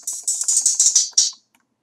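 A run of seven quick, crisp clicks from a computer mouse in FL Studio, evenly spaced and close up, with nothing else around them and then a short silence.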